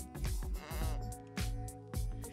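Sheep bleating four times in a row, wavering harmonic calls with short gaps between them, clear and fairly close, used as an effect in a children's Bible story about a lost sheep.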